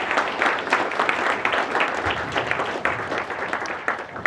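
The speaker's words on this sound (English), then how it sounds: "One more round of applause for Shawn, everyone." An audience applauds after a talk on sales skills, giving a thick, continuous burst of many hands clapping at once, fairly close and loud, holding steady across the clip with no speech over it.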